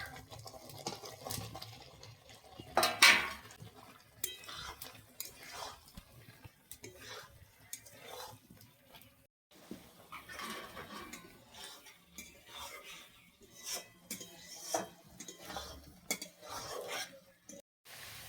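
Fried cauliflower and potatoes are stirred into spiced oil in a cooking pan, with soft scraping of a utensil, faint sizzling and occasional clinks, quiet and close.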